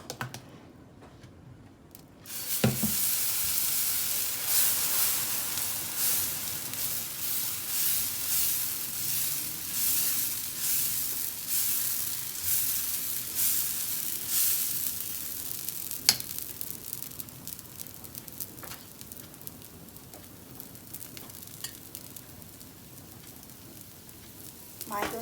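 Dosa batter sizzles in an oiled cast iron pan, a loud sudden hiss breaking in after a quiet start and then settling into a steady, crackling fry with scattered scraping clicks.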